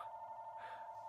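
A mobile phone rings with a steady electronic tone, faint and brief, with no voices over it.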